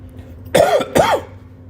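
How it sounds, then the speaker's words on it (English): A single close, forceful throat clearing made of two quick rough bursts, loud against a quiet background. "Clear your throat."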